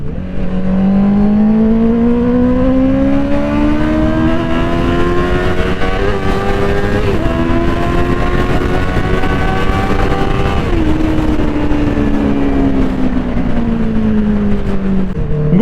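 A motorcycle engine revs loud and close, its pitch climbing and sliding through several gear changes in a continuous throaty roar, with no talking.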